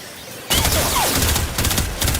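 Rapid automatic weapon fire at shielded training targets in the Warframe video game, starting abruptly and continuing as dense, loud bursts with brief pauses between.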